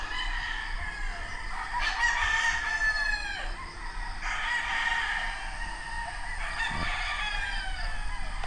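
Gamecocks on a game farm crow three times in turn, long rising calls over a constant background hiss, some farther off than others.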